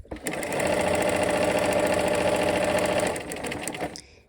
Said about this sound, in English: we'll go ahead and sew to that dot and stop and backstitch